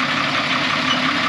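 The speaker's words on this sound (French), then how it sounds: "Mais le moteur il tourne rond" A bus engine idles steadily at close range, giving a continuous, even rumble throughout.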